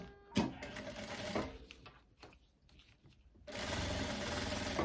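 A sewing machine stitches a folded faux leather belt loop for a midi skirt in rapid mechanical bursts, pausing briefly midway and then resuming with a steady close whir.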